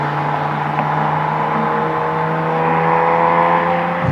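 Porsche 996 GT Club Sport cruising at steady speed on the steep Montlhéry banked track, a sustained engine drone with tire and wind roar, loud and close from inside the cabin, barely changing.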